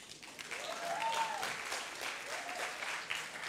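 Scattered audience clapping at a political forum, moderate and steady across a few seconds, with a faint voice and a brief rising tone in the background.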